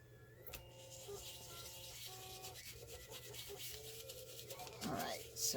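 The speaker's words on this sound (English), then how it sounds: "I have a little 3D printer going." A small 3D printer hums and whirs steadily in the background, its motors shifting pitch now and then, with a brief rustle near the end.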